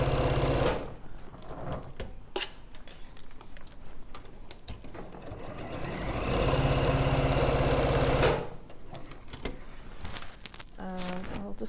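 A sewing machine quilts a slouchy tote bag, its steady mechanical whirring running in bursts with a louder stretch midway, heard close while someone talks over it.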